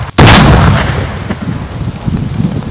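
An unexploded bomb in Laos goes off in a controlled detonation by a demining team, a single loud, sharp blast followed by a long, rumbling roll that slowly fades.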